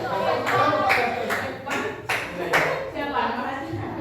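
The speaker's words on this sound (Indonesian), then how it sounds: "Kasih tepuk tangan ya" Children in a classroom clap their hands in a rhythmic, evenly spaced pattern, with voices chanting or talking along throughout.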